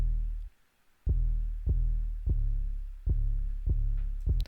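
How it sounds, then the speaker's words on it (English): Deep 808 bass pattern in a hip-hop beat, booming low sub notes with punchy kicks landing every half second or so, loud and up front with no voices. "next 808 pattern is going to sound like this"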